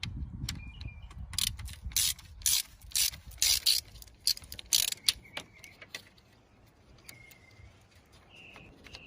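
A hand ratchet clicks in quick bursts while radiator bolts come off a Mercedes-Benz E320 W210, close and fairly quiet, followed by softer metallic handling and a few faint bird chirps in the background.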